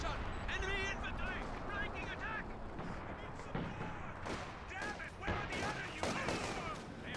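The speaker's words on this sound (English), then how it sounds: "this is major artillery this time" Artillery fire in a strategy video game pounds repeatedly as irregular booming blasts mixed with scattered gunfire, layered under ongoing commentary speech throughout.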